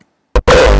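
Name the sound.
raw hardstyle kick with cubic distortion filter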